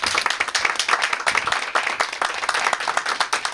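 A room full of people at an elementary school book donation event applauds, brisk overlapping claps forming a lively, even burst of clapping that carries through the whole moment.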